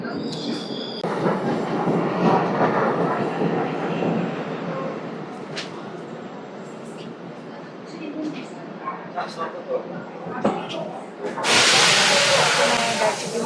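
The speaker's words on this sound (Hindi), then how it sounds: "ट्रेन आ चुकी है।" A train rolls into a station in Seoul with a steady rumble and hissing brakes, voices murmuring nearby, ending in a loud burst of air release.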